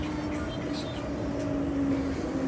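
A Perth line train pulls into a Perth suburban station: a steady, loud rumble of wheels and motors carrying a sustained whining tone that runs unbroken for the whole stretch, with no voices heard.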